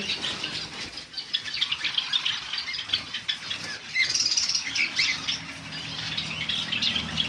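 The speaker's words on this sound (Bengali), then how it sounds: "যে সমস্ত পাখিগুলো দেখছো সব পাখিগুলো সেলের জন্য আছে" Caged lovebirds, java sparrows and cockatiels kept for sale chirp and squawk in a constant busy chorus, with fluttering wing flaps and rustling close by throughout.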